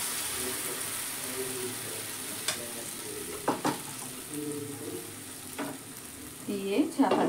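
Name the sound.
soybean chilla batter frying in oiled pan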